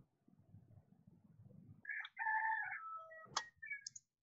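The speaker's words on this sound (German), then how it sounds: "Der Hahn kräht." A rooster crows once, fairly faint and distant, a rising then drawn-out cock-a-doodle-doo with a short tail, following a low rumbling background murmur.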